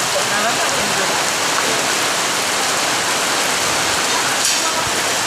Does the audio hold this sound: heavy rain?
yes